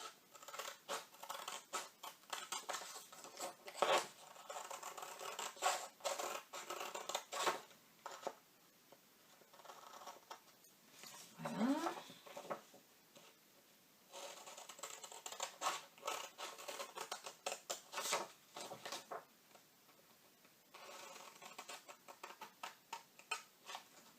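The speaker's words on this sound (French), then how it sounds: "Donc là, je vais le faire au ciseau." Scissors snip through paper to cut pocket dividers for a planner, with quick repeated close-up cuts and crisp rustling of the sheet, no voices.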